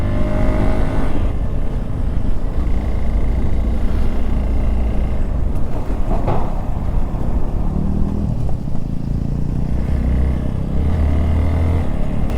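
A car engine labours in second gear up the Fotu La mountain pass on a high-altitude road, giving a loud, steady, close drone with road and wind rumble throughout.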